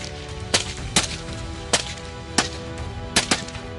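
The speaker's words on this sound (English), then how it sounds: "gunfire erupted in rapid succession" Rapid gunfire cracks out against a low steady rumble, six sharp loud reports spaced irregularly, some in quick pairs, during a fight against a charging herd of wild boars.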